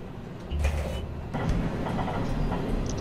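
Moving train carriage in the Fate by Numbers game, a steady low rumble with a sliding door-like whoosh and clatter rising partway through, close and continuous.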